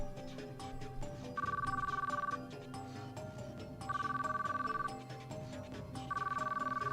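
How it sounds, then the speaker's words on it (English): A telephone in the Chaos;Child visual novel rings in three repeated electronic bursts, steady and clear over continuous background music. "The phone rang and rang."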